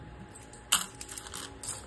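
Coins drop into a pile in a few small, faint metallic clinks over quiet room noise.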